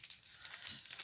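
Washi tape tears and crinkles against gift wrapping paper, a brief, soft, close papery rustle with a few light crackles.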